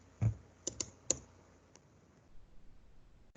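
Computer keyboard keys clicked to type a name into a form, a few sharp separate taps followed by a softer, quicker run of keystrokes, close and quiet in a still room.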